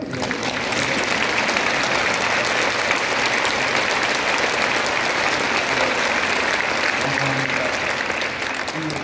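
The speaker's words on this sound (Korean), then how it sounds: "아무리 바빠도 사랑의 교회하고 오 목사님에게 박수 한번 하고" A Korean church congregation applauding at a prayer meeting for Ukraine, a loud, sustained burst of many people clapping together that continues evenly throughout, with some voices faintly mixed in.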